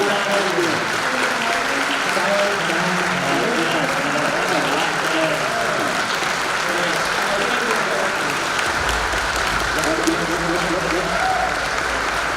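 An audience applauds at the end of a Sesame Street panel at Silicon Valley Comic Con, with loud, sustained clapping from a large crowd filling the room.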